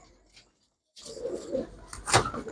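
A lakka fantail pigeon gives a soft coo, then a louder burst of cooing and wing-ruffling close up, with a sharp peak near the end.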